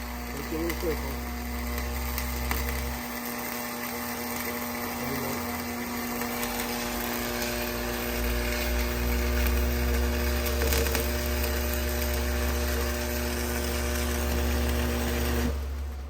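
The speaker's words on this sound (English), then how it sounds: "What type of welding is this called? Hard facing. Stick welding." A stick welding arc lays hard facing on a farm, making a continuous harsh crackling buzz for the whole stretch, loud and close over a steady low electrical hum.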